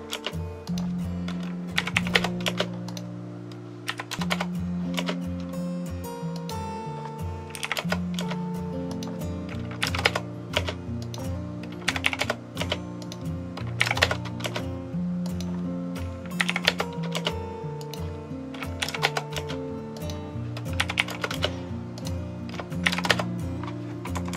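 Quick bursts of keystrokes on a computer keyboard come from someone drafting in AutoCAD, typing shortcuts with the left hand while the right works the mouse. The clicks arrive in fast irregular clusters, close and clear, over a faint steady tone.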